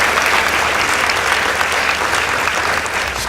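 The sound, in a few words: audience applause for a debate team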